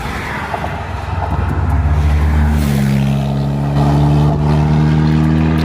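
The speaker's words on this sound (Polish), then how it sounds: "to szybko, bo samochód jedzie." A car drives past on a quiet roadside, its engine hum swelling from a distant rumble to a loud, steady drone with a rising tone as it nears.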